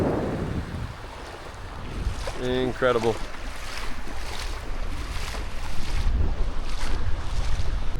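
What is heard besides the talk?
heavy wind on a beach sandbar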